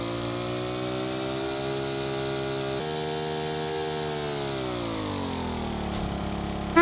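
Modular engine of a homemade ultralight plane in Stormworks runs steadily alone, a continuous harmonic drone whose pitch holds, jumps briefly, then sags lower as revs drop, with a sharp click at the very end.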